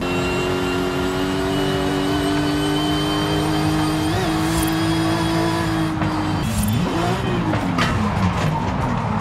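A racing car in Forza Horizon 5 drives steadily with a loud, sustained engine drone. Around the six-second mark the pitch sweeps and wavers as tires scrub and squeal, and then the engine revs back up.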